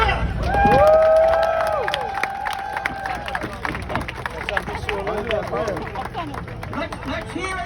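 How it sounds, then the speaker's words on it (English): A crowd at a political gathering applauds and cheers for a host, with whistles and whoops early on, then steady clapping and chatter continuing under a lively hubbub. "have a round of applause for our most generous host, Mr. Michael Desner."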